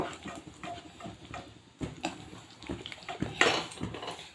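A spoon clinks against a pan while spices and chaat masala are stirred into paneer korma gravy, faint irregular scraping and tapping that grows a little louder toward the end.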